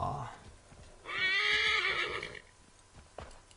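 A horse in an Assassin's Creed video game gives a loud, high whinny lasting about a second, set against quiet ambient background with faint hoofbeats.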